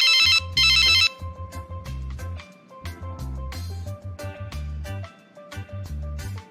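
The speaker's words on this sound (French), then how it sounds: "Je vais appeler Fiona." A telephone rings out in a repeated ringtone pattern of bright melodic tones over a steady low beat, loud and close, with no talk.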